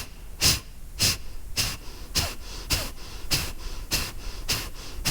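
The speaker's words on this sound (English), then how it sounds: "So you kind of feel like your body is jerking a little bit. That's why it's called the breath of fire," Breath of fire yoga breathing: eight sharp, forceful nasal exhales at a steady pace about every half second to second, close and breathy with quiet passive inhales between.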